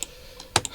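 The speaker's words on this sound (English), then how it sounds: "I've got to start copying and pasting these things from places rather than hand typing them in" A few scattered computer keyboard keystrokes in a quiet room, with one louder key hit near the end among fainter taps.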